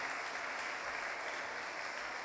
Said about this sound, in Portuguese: queria que você aplaudisse ao Senhor nessa noite